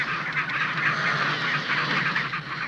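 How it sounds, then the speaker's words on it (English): A dense colony of ring-necked Magellanic penguins calls nonstop, a mass of overlapping goose-like honking and braying cries that holds steady and loud throughout. "They are ring-necked Magellan penguins, named for the famed explorer who described the flightless birds as strange geese."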